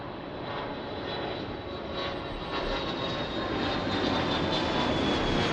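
An aircraft on approach to land at Lisbon Airport, a steady broad engine roar that builds slightly and holds without talk.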